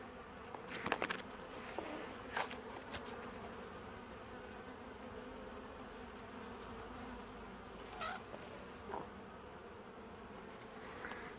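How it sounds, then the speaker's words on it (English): Honeybees buzz steadily around the hives, a soft continuous drone with a few louder passes as individual bees fly close by. "Bees are happy."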